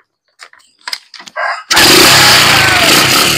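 A Bajaj CT100 skeleton motorcycle wired to a battery-operated CDI gives a few sharp clicks and sputters, then its engine catches at once and runs loud and steady, a close, rough idle.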